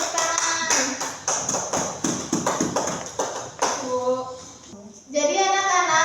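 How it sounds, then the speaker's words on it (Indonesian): A class of children claps their hands in quick rhythmic bursts, close and fairly loud. Children's voices chant and talk along with the claps, and the clapping gives way to voices near the end. "Beri tepuk tangan."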